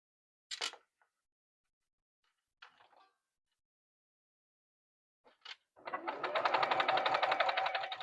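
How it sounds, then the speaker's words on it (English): A sewing machine stitches a quilt block, starting with a few faint clicks and handling noises. It then breaks into a fast, steady mechanical chatter that runs for the last two seconds. "I'm going to sew this down."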